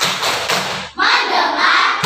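A school class in Indonesia performs the rhythmic "tepuk fokus" group clap, loud, dense bursts of many hands clapping together in two sustained bouts, with a brief gap between them and a voice in the background.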